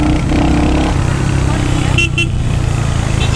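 A Royal Enfield Hunter 350 motorcycle exhaust rumbles steadily at close range in eco mode, with a couple of brief horn toots from nearby traffic partway through.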